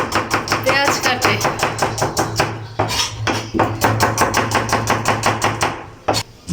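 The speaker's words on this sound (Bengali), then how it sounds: "1 কিলোর মতো পেঁয়াজ আছে এখানে, তার কাটতে সর্বোচ্চ 5 মিনিটও লাগবে না" About a kilogram of onions being chopped very fast with a knife on a board on Qurbani Eid day in Saudi Arabia, a rapid steady run of close, sharp knocks that pauses briefly midway, then resumes, with no speech.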